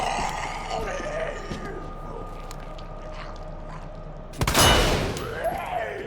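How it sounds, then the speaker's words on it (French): A flashbang grenade goes off in the Resident Evil 2 video game, a sudden loud burst after a stretch of quieter game ambience, then a ringing decay, with someone talking earlier. "Ah, c'est un flashbang."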